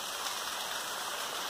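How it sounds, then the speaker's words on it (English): Small waterfall stream at Muthyala Maduvu falls on a sunny day, a dense, steady hiss of falling and rushing water, constant and fairly close with no voices. "it's only a small stream of waterfall, as it is a very really sunny day"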